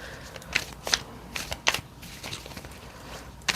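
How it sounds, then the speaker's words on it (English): A Rider-Waite tarot deck is shuffled by hand, with soft papery riffles and several sharper card snaps scattered over a few seconds close to the microphone, with no speech. "Already done some shuffling on this, but let's go ahead and give it a couple of"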